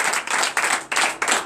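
A congregation at a morning prayer service claps in acclamation, five quick bursts of rhythmic hand-clapping in steady succession, fairly close and loud, with no voices over it.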